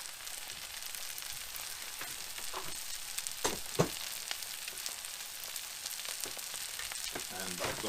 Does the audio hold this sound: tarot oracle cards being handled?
no